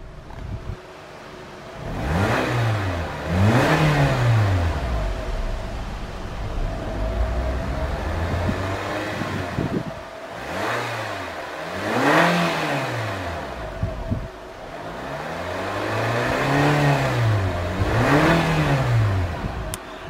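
A 2014 Nissan Juke 1.6 N-Tec petrol engine revs up three times in a row, each climb rising and falling back to idle, loud and close with no talking.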